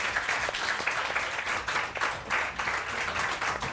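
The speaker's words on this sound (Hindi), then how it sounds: "आरिफ साहब और बेगम आरिफ के लिए बहुत सारी तालियां आप लोग बजाइए" A studio audience on a morning TV show claps steadily at moderate distance, a continuous wash of applause with no pauses.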